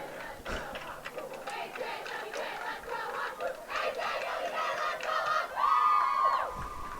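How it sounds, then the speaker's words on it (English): The Hawks hockey team cheers together with their sticks before a game against Assabet, a loud crowd of young voices shouting and whooping in unison, ending in a sustained group yell. "Hawks with a cheer with their sticks."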